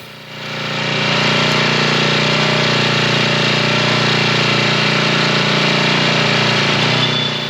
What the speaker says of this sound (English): This is about all I want to lift on this damn splitter here, and it split it no problem at all.